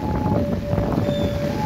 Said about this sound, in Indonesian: Ini anginnya kenceng banget, gila.